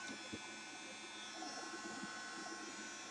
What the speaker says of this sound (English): your heat gun will work really quickly, so it's best to pass it about 2 or 3 inches over the top of your circle